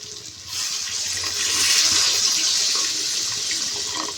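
Water poured into a pan of dried fish frying in hot oil sets off a loud, broad hissing sizzle that swells and then holds steady, close by and alone.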